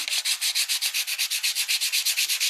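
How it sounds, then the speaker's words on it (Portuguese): Sandpaper rubbed rapidly back and forth over an eggshell to prepare it for pisanki decoration, making about seventeen steady, even rasping strokes in quick rhythm, close and clear with no voices. "Tem que lixar bem lixadinho. Porque depois a gente vai passar a tinta."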